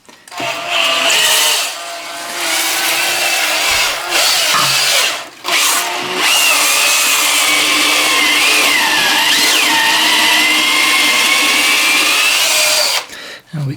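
Electric drill fitted with a scrub brush whirs steadily while scrubbing a toilet bowl, the motor pitch wavering as the brush presses against the porcelain, with a few brief stops and restarts.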